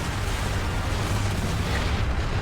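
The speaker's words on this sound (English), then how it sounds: "Good guys don't look at explosion." A deep explosion rumbles through a Space Marine video game battle, a dense, sustained roar with heavy low-end boom filling the whole stretch with no pause.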